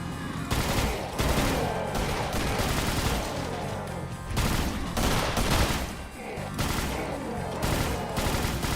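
Rapid sustained submachine gun fire in a video game map, dense bursts of automatic shots with brief pauses, loud and close throughout.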